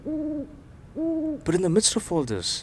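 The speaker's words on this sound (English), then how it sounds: "and that owl hooting away on some tree" An owl hoots from a tree, giving two low, drawn-out hoots separated by a short pause before a voice begins speaking over the quiet background.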